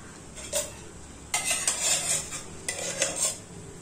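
Semiya kesari mixture with sugar is stirred in a pan: a spoon scrapes and clinks against metal in three separate bouts, close and fairly quiet.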